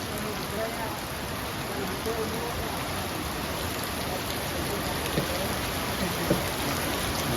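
Steady rain pours down outdoors beside rice fields at a Thai film crew's location, a dense, even hiss that continues without a break.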